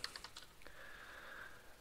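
Keys tapped on a computer keyboard while a username is typed into a password manager's setup form, a few quick close clicks followed by a brief quiet stretch.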